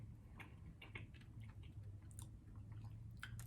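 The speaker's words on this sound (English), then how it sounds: "got a good chew." Someone chews a chewy caramel snack from the Netherlands: soft, close, quiet mouth sounds and small crunches repeating irregularly with no talking.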